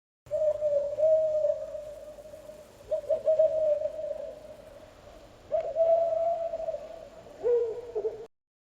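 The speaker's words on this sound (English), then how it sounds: "The answer is an owl." An owl gives long, steady hoots in four drawn-out phrases separated by short pauses. The calls are clear and moderately loud against a faint background hiss.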